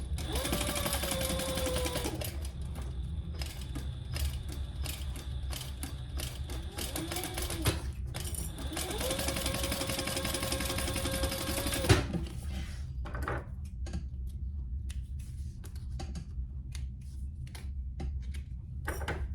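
A sewing machine stitches a seam on a hot pink waist pack, running in two long steady bursts with a pause between, then slower, intermittent stitching toward the end.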